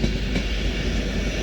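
A Class 390 electric train leaving Crewe station, a continuous loud low rumble with steady wheel and motor noise, brief and close.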